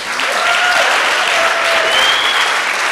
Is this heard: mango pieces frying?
no